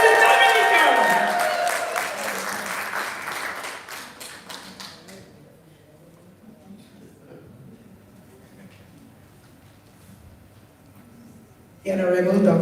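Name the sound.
audience applause for Peace Corps volunteers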